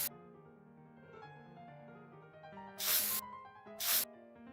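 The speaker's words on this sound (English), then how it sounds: "I love the spray paint sound." Two short bursts of aerosol spray paint hissing in The Sims 4, loud and clear over a soft background game music bed, each lasting about half a second, about a second apart.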